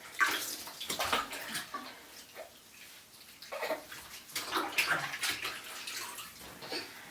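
Water splashes and trickles in a bath as a baby is washed, in close, irregular bursts of sloshing with short quieter gaps and no talking.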